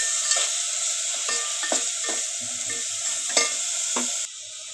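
Chicken curry sizzles steadily in a pan while a spoon stirs and scrapes through it in short repeated strokes, close and fairly quiet, with no talking.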